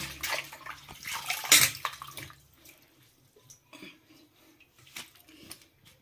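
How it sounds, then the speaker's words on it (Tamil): Sliced potatoes for chips are washed by hand in salt water in a kitchen bowl, with wet splashing and sloshing, close and uneven, plus light clinks of the vessel. "இப்போ ஒரு வாட்டி இந்த உப்பு தண்ணியில் கழுவிடலாம்"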